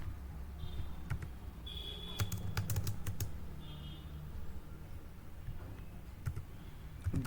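Rapid, close keystrokes on a computer keyboard while code is typed, irregular taps in short bursts with a few brief beeps in between, quiet room and no talk.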